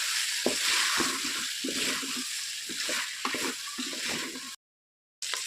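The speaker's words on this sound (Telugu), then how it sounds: "సో పన్నీర్కి కూడా మనం వేసుకున్న మసాలాలన్నీ పట్టేటట్టు కలుపుకోవాలి." Paneer is stirred with masala in a frying pan, giving a steady sizzle broken by repeated scraping strokes, close and moderately loud, with a brief silent gap near the end.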